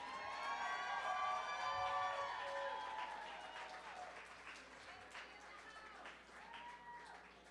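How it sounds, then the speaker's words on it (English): An audience at an evening women's honoring reception in Boston applauds its final group of honorees, a steady, moderately distant clapping with a sustained musical tone running underneath that slowly fades. "Let's clap it up for our last group of ladies that we'll be honoring tonight."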